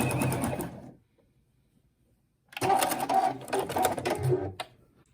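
A sewing machine running a zigzag stitch, needle swinging left and right, in two bursts: a short run, a second of near silence, then a longer steady rattling run at close range.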